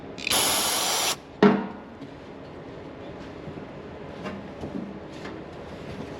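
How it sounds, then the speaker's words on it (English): A burst of brake cleaner sprays onto snowblower parts as one steady hiss lasting about a second, then a shorter second spurt, followed by quiet handling noises. "We'll hit it with some more brake cleaner."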